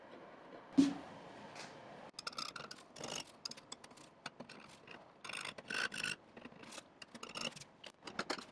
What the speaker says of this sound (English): This is one of the many paint picking sessions I had on this piece.